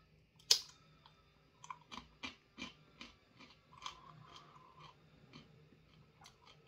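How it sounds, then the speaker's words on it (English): Crisp crunching bites into a Carolina Reaper and Trinidad Scorpion pepper chip, a loud crack followed by a steady series of chews, close up with no talking. "It's a crunchy chip,"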